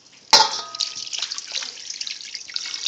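Water poured from a small container over soil in a bowl, an Easter grass growing kit: a sharp splash onset, then a steady close trickle and dribbling with no talk.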